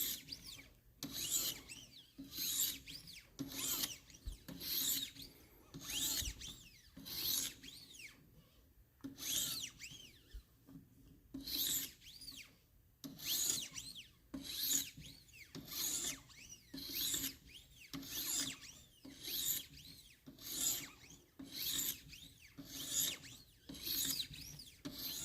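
A Damascus steel pocket knife blade is stroked back and forth on a 1000 grit sharpening stone, producing close, evenly paced rasping strokes that repeat steadily with brief pauses and no talk.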